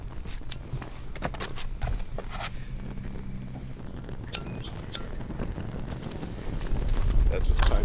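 Wind gusts roar steadily outdoors beside a burning trash can turkey cooker, a continuous low rumble buffeting the microphone and rising toward the end, with someone speaking over it.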